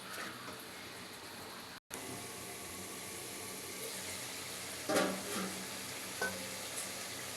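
Liver curry sizzling steadily as it fries in a pan for liver bhuna, with occasional scraping stirs and a brief gap, then a couple of louder clatters near the end.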